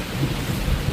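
Rain falls steadily as a dense, even hiss for under a second, heard outdoors during a Tesla Model 3 drive to Baguio.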